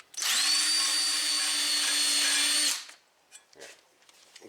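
Power tool whirring steadily for about two and a half seconds while cleaning the brake caliper bracket landing on a 2006 Buick Lucerne, loud and close, then stopping, followed by faint handling noises.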